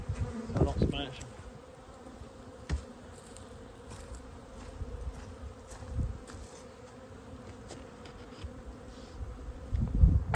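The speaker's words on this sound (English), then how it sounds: "Lots of bees, and they're good and heavy." Honey bees buzz around a winter beehive during a hive check, a low continuous hum with scattered louder bumps and handling knocks close by.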